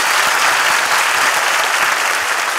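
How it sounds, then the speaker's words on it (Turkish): Steady audience applause from a studio crowd at a Turkish comedy show, dense and continuous throughout with no talking over it. "Bir alkış daha alınabilir."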